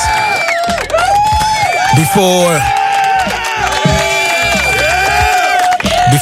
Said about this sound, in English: ladies and gentlemen, let's first give you the applause